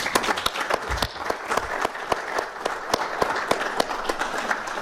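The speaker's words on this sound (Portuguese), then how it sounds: "Uma salva de palmas." Audience applause at a Portuguese speaking event of the Clube dos Pensadores, many people clapping with distinct sharp individual claps standing out in a sustained, moderately loud ovation.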